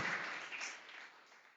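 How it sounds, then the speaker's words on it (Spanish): A church congregation applauds in praise, a dense burst of clapping that starts loud and fades steadily over a second and a half. "Dele un fuerte aplauso de alabanza a ese Cristo maravilloso."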